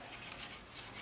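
Fingers rub a glued flap of a cardboard Valentine box so it sticks, giving a steady soft papery scrubbing close up for about a second, with no talking.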